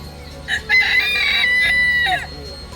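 A rooster crows once in a long, clear call, close by, over a faint background hum in the Azores.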